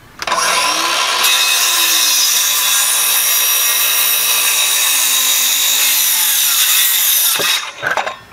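A power saw cuts through wet lumber for a DIY firewood rack, a loud, close, continuous whine and rasp of the blade in the wood that stops abruptly near the end, followed by a brief clatter.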